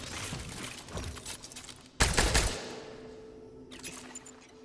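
Carbine fire in the video game Cronos The New Dawn, a rapid burst of loud shots followed by a sharper second burst, then a fading tail with faint clatter.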